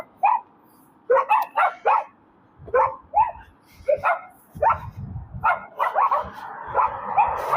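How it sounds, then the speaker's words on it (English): Several dogs bark outdoors in uneven bursts, a mix of sharp barks and yips with short pauses, fairly close and loud, with no talking over them. "Bark, bark, bark."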